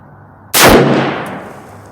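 A single sharp, loud rifle shot from a Swiss K11 carbine firing surplus ammunition at an outdoor range, close and abrupt, with a long decaying echo trailing off afterward.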